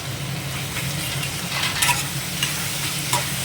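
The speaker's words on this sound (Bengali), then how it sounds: "বেশ ভালো করে ওগুলো নেড়ে নিয়ে" Chopped chillies stirred in a pan for chilli chicken, a steady sizzle with repeated spoon scrapes across the pan, moderately close and clear with no talk.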